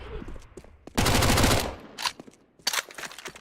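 CS:GO gunfire in a fast volley of shots, with a few further shot bursts after a brief gap, heard over quiet in-game sounds.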